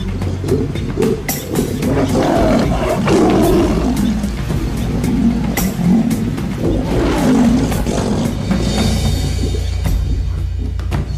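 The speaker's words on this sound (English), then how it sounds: "There are too many lions around." Lions in the wild give deep, rumbling roars and growls that swell and fade in long waves over a low, continuous background rumble, fairly loud and close.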